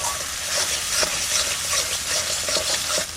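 Cumin, coriander and dried chili paste fry and stir in a pan for village-style potato curry, giving a steady close sizzle with scraping stir strokes throughout.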